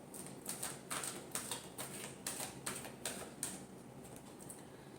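Tarot cards being shuffled for a final time, a run of soft riffling bursts spaced about half a second apart, close and fairly quiet, with no voice.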